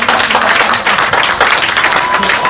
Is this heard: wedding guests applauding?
yes